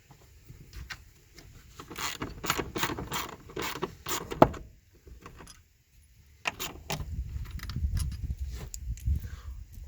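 Metallic clicks, ratcheting and clinking come from a socket wrench as 12mm bolts are loosened on the rear seats of a 1996-2004 R50 Nissan Pathfinder, arriving in quick bursts close by with quiet gaps and low rustling between them.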